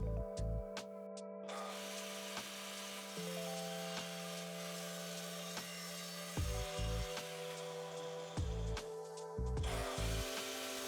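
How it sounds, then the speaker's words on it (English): Miter saw cutting solid wood cabinet panels to final length, a steady loud motor whine with pitch shifts as the blade spins up, bites and slows between cuts, running almost without pause. "we go over to the miter saw just to cut the panels to their final length"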